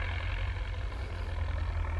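A Belarus 1025 turbo tractor with big wheels, its diesel engine running steadily as it moves, a low even rumble heard close and alone with no talk.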